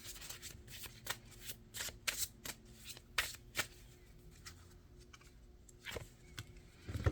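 Tarot cards being shuffled and drawn, close and fairly quiet: repeated sharp riffling flicks and soft sliding rubs in irregular bursts, with no talking.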